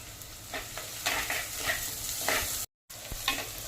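Onions and garlic with a little turmeric sauté in a pan for a murrel fish curry, giving a steady close sizzle broken by scraping stir strokes and one brief dropout.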